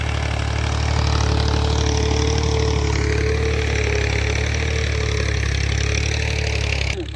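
Tractor engine running steadily while ploughing a field, a loud continuous low diesel drone with a constant mechanical hum, no voices, cutting off at the end.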